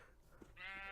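Sheep in a survival video game let out one short bleat that starts partway through and holds steady, fairly faint against quiet ambient sound.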